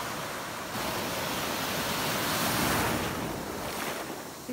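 Sea surf in Thailand rolls in as a steady broadband wash that swells and eases over several seconds, close and loud, with wind buffeting the microphone and no voices.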